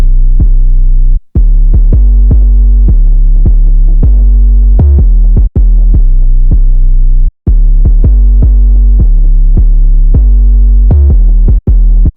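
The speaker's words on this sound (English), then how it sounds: "So here's the first 808 pattern." A heavy programmed 808 bass pattern from FL Studio throbs loudly with deep sustained booming notes in a bouncy rhythm, broken by a few short gaps, with no talking.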